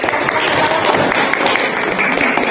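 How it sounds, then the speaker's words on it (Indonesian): Dense, loud clapping from a classroom of students runs continuously for a couple of seconds, close and busy with a faint murmur of voices underneath. "Tepuk tangan untuk Resti."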